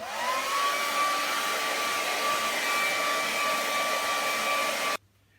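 A hair dryer drying paint on a painting, running at a constant loud, steady whine and blowing for about five seconds before switching off abruptly into near silence.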